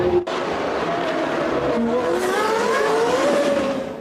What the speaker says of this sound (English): Cars are on track, ready for the start of race 2 in Marrakesch for the AutoGP World Series